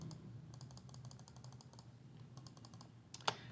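Quiet clicks from a computer keyboard come in quick clusters of key presses, ending with one sharper louder tap, over a faint steady background hum.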